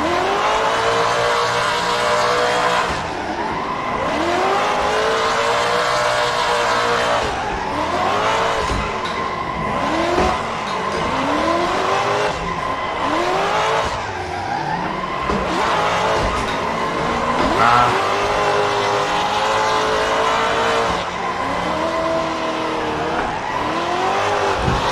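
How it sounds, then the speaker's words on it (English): A car drifts sideways in the Assetto Corsa racing game, its engine rising and falling in loud revving sweeps while tyres squeal and skid almost continuously through the whole run. "This car doesn't grip too well though, it just wants to slide all the time"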